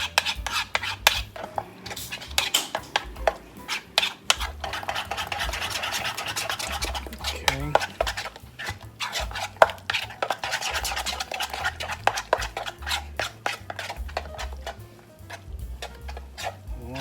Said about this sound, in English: so here we go. Mixing up. The mozzarella.